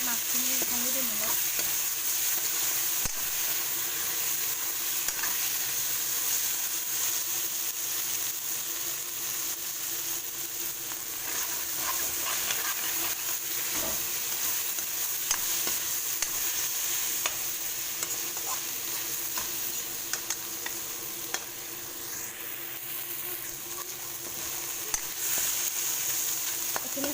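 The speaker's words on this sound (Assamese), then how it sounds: "মাছখিনি ভাঙি দিম অলপ" Boral fish broken up and stir-fried in a pan, to be cooked with pumpkin and potato, giving a steady soft sizzle with occasional scraping of the utensil, fairly quiet and unbroken.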